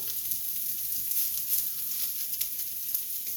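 Butter sizzles steadily in a hot pan, a bright continuous crackle with small pops, close and fairly quiet, with no voices.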